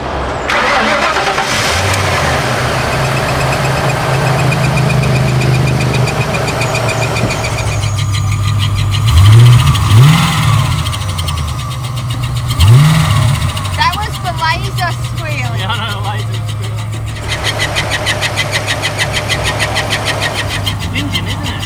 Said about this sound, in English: I'll start it up and turn the aircon on and see if it makes that noise again